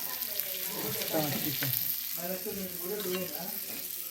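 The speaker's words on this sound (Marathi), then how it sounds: "मम्मी इकडे मच्छी फ्राय करते, ती दाखवतो" Fish frying in a pan on a village home stove gives a steady sizzle close by, with faint voices and household sounds mixed underneath.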